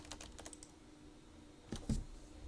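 Someone types on a computer keyboard in a quiet room, a quick burst of close, light key clicks followed by a pause and two heavier taps.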